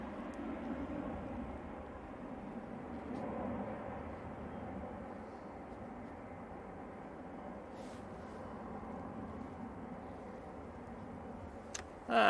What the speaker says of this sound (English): Ryanair off to Naples.